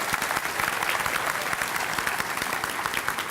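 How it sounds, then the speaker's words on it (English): Dense, steady applause from an audience at a Rooster Booster event featuring Transportation Secretary Elaine Chao, with many hands clapping continuously at even loudness throughout and no speech. "I give everybody a round of applause for being with us today."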